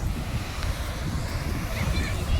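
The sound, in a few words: sea waves at Diu Nagoa beach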